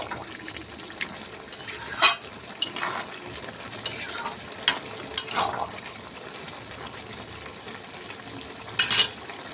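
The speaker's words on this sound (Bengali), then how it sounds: "চিনি দিয়ে একটু নাড়াচাড়া করে নেব।" Cabbage curry with a fish head is stirred in a pan after sugar is added. A few sharp, separate scraping bursts of the spatula cut through a quiet background.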